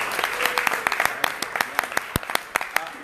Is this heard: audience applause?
yes